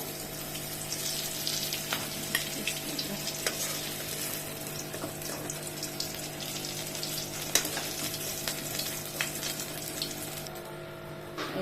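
Sliced teasel gourd (kakrol) fries in a pan, a soft continuous sizzle with occasional scraping and stirring clicks, fairly quiet and steady throughout.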